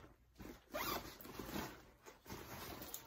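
A zipper on a small, cheap bag is pulled open in a few quick rasping strokes with short pauses between them, close by and fairly soft.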